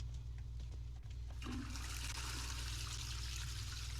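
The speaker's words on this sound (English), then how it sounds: "Oh, I heard water." Water running in the Texas Chain Saw Massacre video game, a steady rush that rises in over a constant low hum, with a few faint clicks and no talking.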